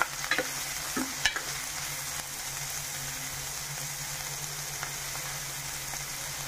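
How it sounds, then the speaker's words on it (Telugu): Onions fry in a pan with a steady, soft sizzle, with a few stirring clicks and scrapes near the start and no talking. "ఉల్లిపాయలు బాగా మగ్గేంత వరకు ఫ్రై చేసుకోవాలి"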